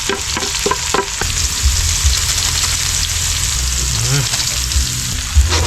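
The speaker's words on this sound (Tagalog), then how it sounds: "Siyempre, gisa-gisa lang tayo ng mga ingredients." Garlic, onion and chili sauté loudly in a pan with a dense, continuous sizzle and crackle. Stirring clacks come through up close, with brief voices and background music underneath.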